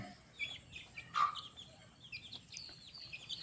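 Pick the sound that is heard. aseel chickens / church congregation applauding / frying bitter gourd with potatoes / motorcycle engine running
aseel chickens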